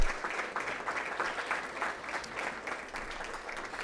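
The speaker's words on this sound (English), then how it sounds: "how about a round of applause for these gentlemen as they jump on the stage here" Audience applause at a school board meeting honoring a high school boys wrestling team as they take the stage; steady, dense clapping from a sizable crowd throughout, moderately loud with no talk.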